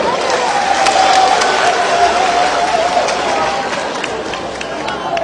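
Sustained crowd noise, a dense wash of clapping and cheering from many people that slowly fades, with a voice carrying faintly over it.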